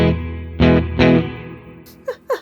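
Electric guitar through an Alexander Space Force reverb pedal on its spring setting rings out with a wet, splashy reverb tail: two strong strums, then a couple of quicker plucked notes, all fairly loud.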